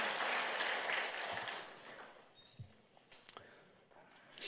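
Congregation applause during a Sunday church service fills the first seconds as a dense clapping wash, then fades into quieter room noise with a few scattered claps and thumps.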